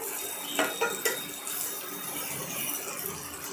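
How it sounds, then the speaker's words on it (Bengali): Chopped vegetables for a spicy masala egg pasta stirred in a hot pan, with clattering utensil scrapes and knocks over a soft bed of frying hiss, close and without talk. "আবারও ভালো করে নেড়ে দিলাম সবজিগুলো"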